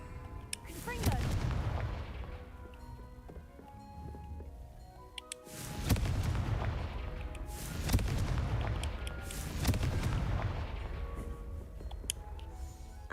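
Confringo blasting spells go off in the Hogwarts Legacy video game as repeated heavy booming explosions with rumbling decay, loud and close, over continuous noisy game sound.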